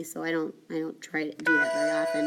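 A mobile phone rings in a classroom with a repeating electronic ringtone, chiming in short bursts while a teacher keeps talking over it.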